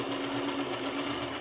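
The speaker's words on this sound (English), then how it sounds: "so I'm sewing pretty close to that elastic without sewing the elastic itself" Sewing machine stitching fabric close to a strip of elastic, a steady rapid mechanical whirring and ticking heard up close for a brief, unbroken burst.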